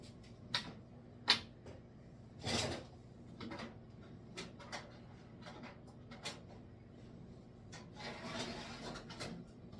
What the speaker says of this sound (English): we're going to go ahead and stick it in the dehydrator